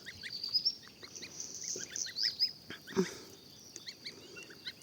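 Young goslings graze in a farmyard, giving soft, repeated high peeping calls that come in scattered bursts throughout, with a few louder cheeps standing out over a quiet outdoor background.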